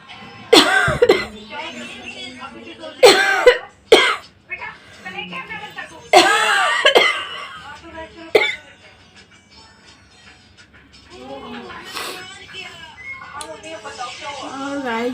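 A person coughs repeatedly in loud harsh bursts, clearing the throat between fits, with brief chuckles and talking in the quieter stretches between coughs.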